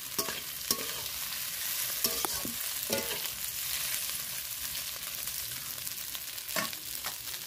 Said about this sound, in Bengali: দেখো একটু ভাজা ভাজা হয়ে গেছে